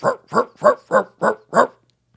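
A small Bichon barks six times in a steady, evenly spaced series, each bark loud, close and sharp, followed by silence.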